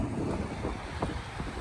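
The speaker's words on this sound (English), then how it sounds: "Bloody windy." Strong outdoor wind buffets a microphone beside a pickup truck, a steady loud low rumble and roar with no other sounds.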